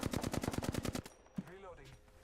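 Automatic gunfire in the video game Apex Legends, a rapid burst of about ten shots in a steady rhythm lasting a second, followed by quieter game sounds and a brief voice.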